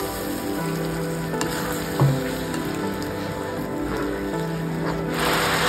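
Veg Manchurian sauce with chilli powder, coriander powder and turmeric bubbles and sizzles in a pan, a steady soft hiss with occasional small pops and one clink, close by and without talk.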